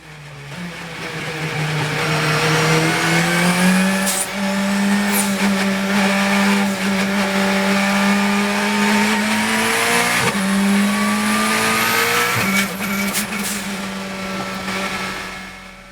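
Turbocharged Honda-engined Ferrari race car on a circuit, engine note rising through the gears with sharp shifts and lifts, loud and close with brief spikes between pulls.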